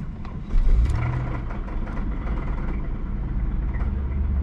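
A car engine with rod knock runs in an open desert setting, giving a steady low, rough rumble that holds loud and close throughout with a slight surge early on.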